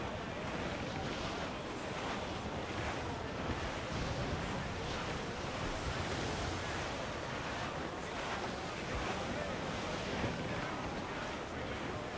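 Constant roar of high ocean waves and wind at sea in the video game Assassin's Creed IV Black Flag, a steady loud wash of surf throughout.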